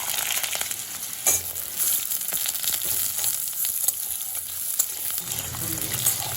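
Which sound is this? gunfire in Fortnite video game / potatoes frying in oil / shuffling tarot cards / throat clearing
potatoes frying in oil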